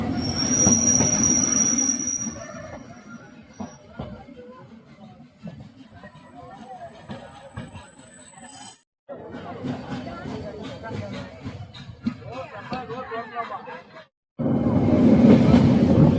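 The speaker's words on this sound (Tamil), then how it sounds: "நம்ம ட்ரெயின் பார்த்தீங்கன்னா மூவாக ஸ்டார்ட் ஆச்சுங்க" Ooty toy train pulling away and rolling along its tracks, with loud wheel squeal and rumbling carriages, briefly dropping out and returning; someone talks over much of the running noise.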